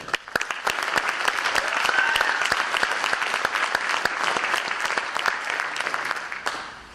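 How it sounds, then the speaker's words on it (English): At a high school scholarship and awards night, the audience gives a warm round of clapping for staff and teachers, individual sharp claps standing out near the microphone over a steady crowd wash that runs throughout. "Please join me in a round of applause of the staff and teachers"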